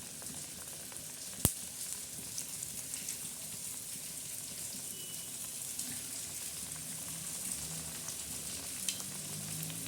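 Pieces of sesame, jaggery and wheat-flour dough fry in hot oil, a steady soft sizzle with a single sharp knock early on and light crackles throughout, no talking.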